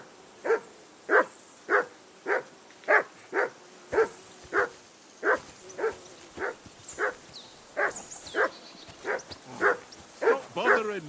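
A dog barks over and over in a medieval village in the video game Kingdom Come Deliverance 2, about twenty sharp, evenly spaced barks close by with no talking.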